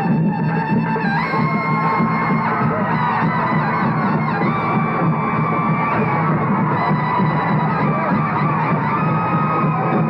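Loud, dense crowd noise from a village Ganesh festival procession: continuous shouting and cheering with whoops and a honk, steady and close throughout.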